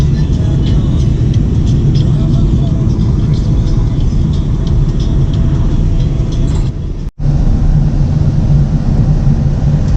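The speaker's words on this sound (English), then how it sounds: "Traffic" Steady low rumble of road traffic heard from inside a moving car, a continuous loud drone with a brief dropout near the end.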